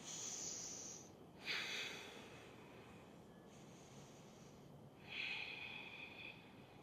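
Long, slow breaths drawn in and out during a yoga lizard pose, heard as soft airy hisses that swell and fade roughly every few seconds, close but quiet, with no voice.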